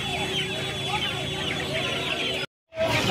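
Chickens cluck and squawk constantly at a crowded poultry market in Uluberia, a dense chorus of nearby birds broken by a brief cut to silence before the clamour resumes.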